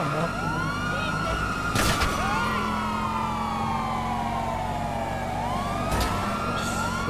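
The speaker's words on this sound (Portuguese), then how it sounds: "Caraca, o carro da polícia." Police car siren in Grand Theft Auto V wails continuously in long rising and falling sweeps, loud and close, steady through the whole stretch with a couple of brief sharp bursts layered on top.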